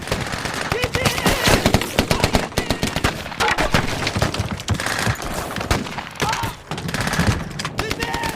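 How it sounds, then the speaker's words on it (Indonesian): Rapid bursts of machine-gun and rifle fire crackle through a battle between soldiers, dense and loud with overlapping volleys across the whole stretch, with shouting voices mixed in. "baku tembak pun terjadi"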